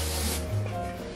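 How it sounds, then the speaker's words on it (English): Baccarat perfume sprayed in a quick hissing burst, brightest in the first moments before trailing off into a soft, fading mist. "Yes, I spray a lot of it, even though that's not necessary."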